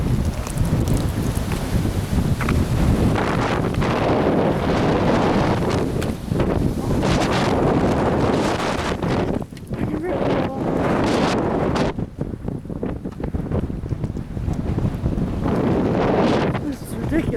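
Strong 50 mph wind gusting down a hillside, roaring and buffeting the microphone almost continuously with short dips, while someone talks over it.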